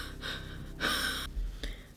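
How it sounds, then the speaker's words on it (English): A woman breathes heavily up close while concentrating on makeup, with rasping exhales and a sharp gasping intake in the middle, followed by a brief snort-like breath. "when I'm concentrating, I breathe really heavily"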